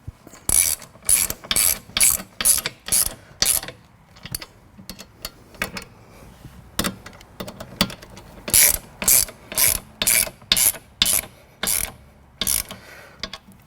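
Ratchet with a 7/16 socket tightening bolts on floor boards of a Can-Am Spyder; close, crisp clicking in quick bursts of several strokes, separated by short pauses, with no talk.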